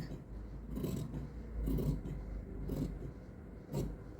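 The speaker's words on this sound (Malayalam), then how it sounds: "ഞാനിത് ഇവിടെ ഒരു അര ഇഞ്ച് ഇറക്കി കട്ട് ചെയ്തെടുക്കുന്നുണ്ട്" Scissors cut through blouse sleeve fabric in a series of soft, close snips and scraping strokes, with no talk.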